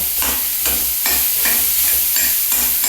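Onions frying in a pan on a stove, with a steady sizzle broken by a regular, repeating scrape of stirring, close and fairly loud.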